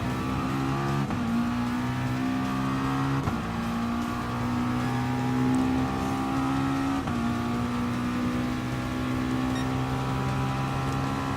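A race car engine in Gran Turismo Sport revving hard under throttle, a loud steady drone with clear rising pitch sweeps as it climbs through gears, with brief dips at each shift.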